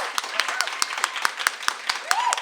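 A live audience claps for author Sarah Gailey at a book event, a steady patter of handclaps with sharp individual claps standing out over a faint voice.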